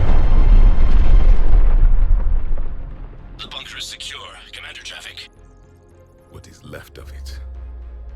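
A neutron bombardment explosion in a video game, a loud low booming roar that rumbles and fades over a few seconds, followed by a bright electronic warbling effect and a final deep thud.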